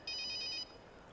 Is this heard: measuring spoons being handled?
no